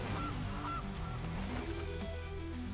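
Goose honks from the Gilded Goose card in the video game MTG Arena, several short nasal honks in the first second over a steady musical background.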